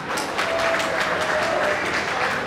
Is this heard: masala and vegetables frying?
no